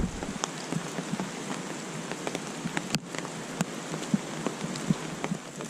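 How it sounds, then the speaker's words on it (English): Steady rain falls through a forest in Taiwan, a dense even patter with scattered sharper drops hitting leaves and surfaces close by, continuous and moderately quiet with no voices. "We can all enjoy the rain."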